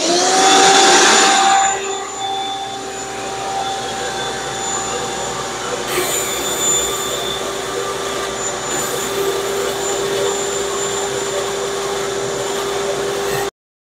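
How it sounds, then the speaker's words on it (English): A shop vac sucks duckweed out of a shrimp tank in a fish room: a loud burst of slurping intake at the start, then a steady, close motor whine that drones on evenly until it cuts off abruptly near the end. "We're going to be using the handy dandy shop vac, one of my favorite tools in the fish room"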